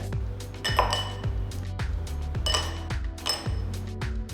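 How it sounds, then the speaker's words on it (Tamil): Ice cubes dropped into a glass while making a cucumber mint shikanjabeen cooler, giving a series of sharp clinks and rattles over a steady low background hum. "அடுத்து கொஞ்சம் ஐஸ் கியூப்ஸ் போடுங்க."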